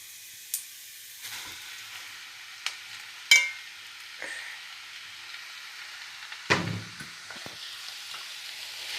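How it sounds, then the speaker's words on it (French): Fresh spinach sizzles in a pan, giving a soft, steady frying hiss broken by a few sharp clicks and clatters of a utensil. "donc là je vais mettre mes épinards"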